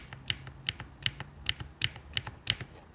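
Keys on an MCHOSE ACE68 PRO mechanical keyboard with lubricated stabilizers are typed in a steady rhythm, about two to three crisp, close clacks per second, clean and alone for three seconds.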